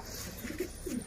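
Domestic pigeons coo nearby, a short pair of low throaty rolling calls over a faint background hum, with no talk.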